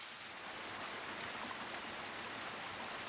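A sudden rain shower falls as a steady, even hiss of drops, soft and continuous throughout, with no voices.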